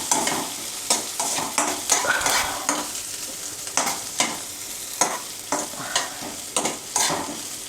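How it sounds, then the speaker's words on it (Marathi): Green chilies, slit lengthwise, roast in a hot pan for poha chivda, giving a steady close sizzle broken by repeated scraping stirs at a fairly regular pace, with no talking. "हिरवी मिरची क्रिस्पी होईपर्यंत भाजा."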